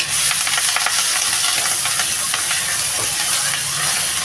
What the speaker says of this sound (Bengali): শাকটা এবার দিয়ে দেবো আমি।